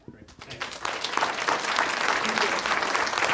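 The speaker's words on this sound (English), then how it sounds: "let's keep clapping on the way out" An audience at a board of education meeting breaks into applause that swells within the first second and holds as full, sustained clapping from many hands.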